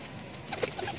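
Pigeons give a soft, brief coo at a moderate distance over a quiet background.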